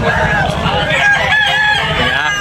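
Rooster crowing rings out at a chicken market in Tabunok, Talisay, Cebu, a loud, sustained harmonic call set against a steady murmur of market noise.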